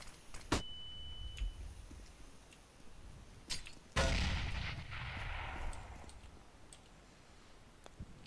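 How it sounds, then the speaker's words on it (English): A flashbang grenade detonates in Counter-Strike: Global Offensive on the Mirage map: one sharp, loud blast with a ringing, slowly fading tail, preceded by a few distant gunshots and clicks. "Deploying flashbang."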